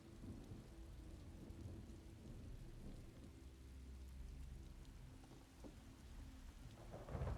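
Steady rain pours with low rumbling thunder in a stormy outdoor setting in the Elder Scrolls Online video game, a continuous wash of falling drops under deep distant rolls, faint overall.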